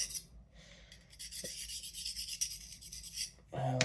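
A paring knife is drawn lightly across a sharpening plate, giving a continuous close-up rasping scrape in short overlapping strokes, with a brief louder knock near the end.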